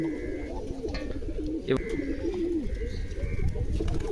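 A pigeon coos in low, rolling phrases close by while it eats medicine mixed for it, the cooing running almost continuously through the short stretch.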